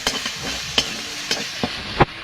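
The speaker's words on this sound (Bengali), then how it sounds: "মশলাটা ভালো করে কষিয়ে নেব" Spice paste of cumin, green chili and mustard paste sautés in a pan over onion, garlic and ginger, a soft sizzle broken by several sharp scraping stirs of the spoon, close and clear.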